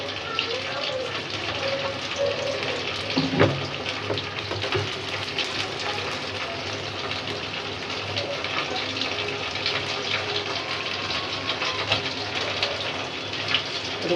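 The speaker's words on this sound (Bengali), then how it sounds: "দেখেন আমার পরোটাটা সুন্দর করে ভাজতে আসি" Paratha frying in a pan, a steady broadband sizzle running close and fairly loud throughout, with a brief louder crackle early on and no voices.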